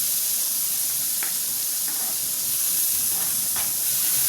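Onion, chili and ginger sautéing in hot oil in a pan, a loud, steady hiss and sizzle throughout with faint crackles rising now and then.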